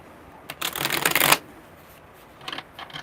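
A quick riffle of tarot cards shuffling, a burst of dense flicking, followed by a quieter brief shuffle a second later.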